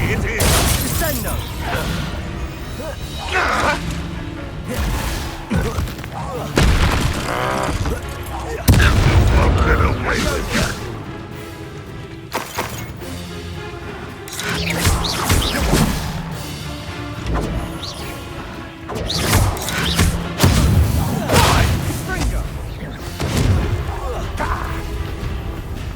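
Confringo and Descendo spell impacts in Hogwarts Legacy combat: a dense run of loud crashing, shattering booms and thuds, recurring every second or two over a busy battle soundscape, with voices talking throughout.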